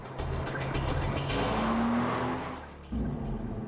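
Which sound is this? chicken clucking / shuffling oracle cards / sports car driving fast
sports car driving fast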